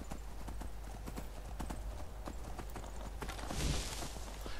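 Horse hooves gallop in a steady, fast clip-clop rhythm in a video game, close and continuous throughout under a busy game backdrop, with a brief louder swell near the end.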